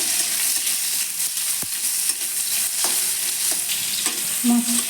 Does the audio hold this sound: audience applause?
no